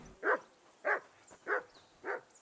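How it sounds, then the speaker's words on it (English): A dog barking in the medieval video game Kingdom Come: Deliverance II, four evenly spaced, moderately loud single barks about half a second apart over a quiet background. "Whistle at that mutt of yours to stop barking!"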